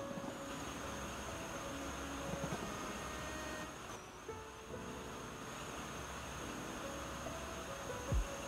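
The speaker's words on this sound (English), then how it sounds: "I like the sounds of the HST on this game." An HST train in a Roblox game passes with a steady, continuous rumble and rolling rail noise, holding level throughout with a few faint clanks and a brief thump near the end.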